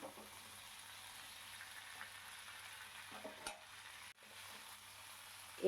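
Vegetables for a vegetarian curry cook in a lidded pan, giving a faint, even sizzle with a low steady hiss, a couple of soft knocks, and a sharper clatter at the end.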